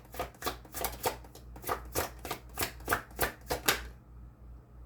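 A deck of tarot cards is shuffled in a steady series of about a dozen crisp riffling bursts, close and clear, with a low background hum, ending in quiet.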